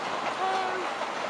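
A Class 317 electric train at London Kings Cross, heard as a short burst of steady rumbling rail noise with a faint tonal whine, moderately distant, with no talking.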